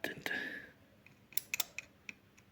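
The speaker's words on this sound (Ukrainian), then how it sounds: "Релюшка клацає, просто клацає і вертається назад." Relay inside a Powercom TCA 1200 voltage stabilizer under repair clicks several times in sharp, close, quiet bursts, after an earlier scraping handling noise.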